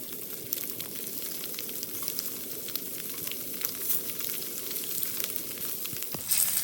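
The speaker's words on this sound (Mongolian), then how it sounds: "бэлдсэн халсан халуун ногоотой тосон дээрээ өндгөө хоёр талаар нь шарж өгнө" Eggs fry on both sides in hot, chili-spiced oil, giving a steady, close crackling sizzle with scattered pops and no talk.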